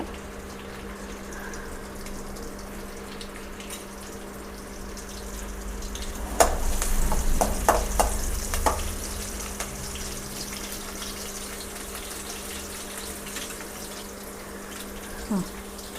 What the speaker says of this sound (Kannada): ಇವಾಗ ಇದು ಚಿಲ್ಲಿ ಹಾಕ್ಕೊತಾ ಇದ್ದೀನಿ, ಹಸಿರು ಮೆಣಸಿನ್ಕಾಯಿ